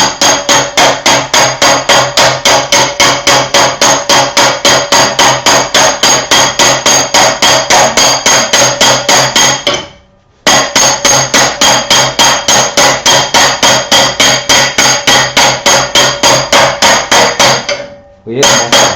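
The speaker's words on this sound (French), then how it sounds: "je commence à lui faire un petit croquage dans le bout là, dans le bout de mon fer, de ma tôle" Rapid, evenly spaced hammer blows ring loudly and close on the end of a steel sheet being bent and rounded, two long runs of rhythmic strikes broken by brief pauses, with no talk.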